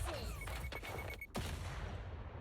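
Teddy bear explosion ultimate in Silver Palace video game, a burst of crackling blasts with a sharp whistling tone, then a heavy boom near the middle that trails into a rumbling fade.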